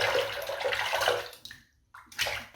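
Water runs into a sink or basin to fill it for wet shaving, a steady rushing flow that breaks off briefly and returns in short bursts near the end.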